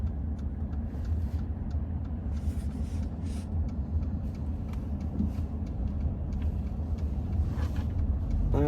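Mercedes A-Class pulling away on a road, a low steady engine and tire rumble building gently as speed rises, heard from inside with no talk.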